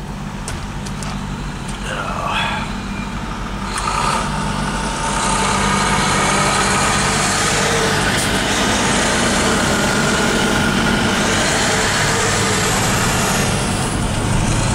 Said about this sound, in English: that diesel semi next to us there, you just heard